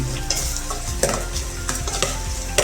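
Chicken browning in a pan for tinola, a continuous sizzle with sharp utensil scrapes and taps at irregular moments, close and fairly loud, with no talking.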